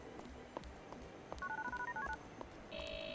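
In GTA IV, Niko taps out Roman's number on his phone: a quick run of short keypad tones over quiet background, followed by a steady ringback tone starting near the end.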